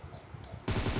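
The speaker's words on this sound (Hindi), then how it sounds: "कहीं पर फायरिंग हो रही है" Gunfire in the battle royale shooter PUBG: quiet at first, then a sudden burst of rapid automatic shots that continues loudly to the end.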